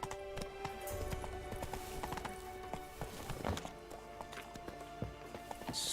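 Roach the horse's hooves clip-clop at a steady trot-to-gallop rhythm in The Witcher 3: Blood and Wine, close and moderately loud over a busy bed of game music and ambience, with a faint whinny and no talk.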